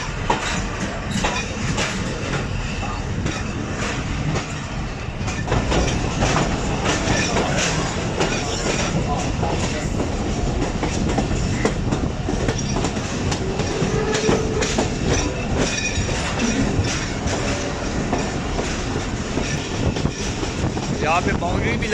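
A Ravi Express passenger train runs along a branch line in hot weather, its steady rumble and rhythmic clickety-clack of wheels on rail joints continuous and close throughout, with a faint voice now and then.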